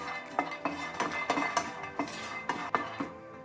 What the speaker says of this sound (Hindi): पैन गरम होने के बाद हम उसमें डालेंगे पीनट्स। अभी इसको 2 से 3 मिनट के लिए रोस्ट करेंगे